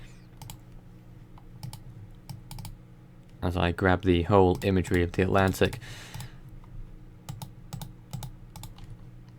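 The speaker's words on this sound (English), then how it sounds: "Yes, a lot of clicking going on" Computer keyboard clicking and typing at a news desk during live hurricane coverage, a short burst of rapid key clicks heard under a man's speech, with scattered single clicks before and after.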